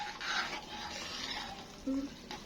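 Potatoes seasoned with chicken spices, chili, coriander, ginger and sugar are stirred in a pan, giving a soft scraping and gentle sizzle with a brief clink of the utensil against the pan, fairly quiet throughout.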